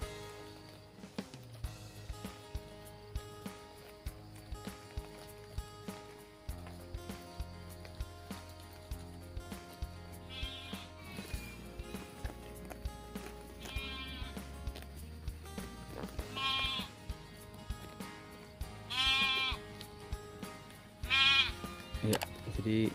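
Sheep bleating repeatedly while out grazing, several loud wavering calls in the second half over continuous background music.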